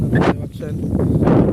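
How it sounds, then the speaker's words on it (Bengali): Strong wind buffets the microphone with a steady low roar, and a voice speaks briefly through it. "প্রচুর বাতাস গেছে"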